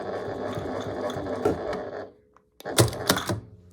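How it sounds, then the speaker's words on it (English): A sewing machine runs in a steady whirring burst for about two seconds while backstitching binding on a square pot holder, then stops, followed by a few sharp mechanical clunks and clicks. "when I reach where I started, backstitch it"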